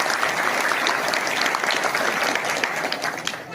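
Villagers at a gathering in Penderwani, Chhattisgarh, clap loudly to welcome officials. Many hands clap together in a thick, continuous burst that stays strong throughout and eases slightly near the end.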